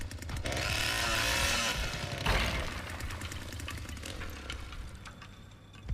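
A chainsaw from the Texas Chain Saw Massacre video game buzzes in a steady, fairly quiet drone with gritty mechanical texture, running continuously with slight surges.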